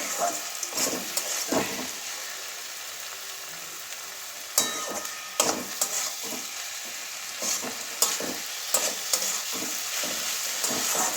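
Eggplant and bitter gourd frying in a pan, a steady close sizzle broken by repeated scraping, stirring clatters of the spatula against the pan.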